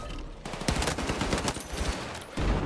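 Rapid automatic gunfire from the video game Battlefield 6, a dense burst of loud shots across the whole stretch with no talk over it.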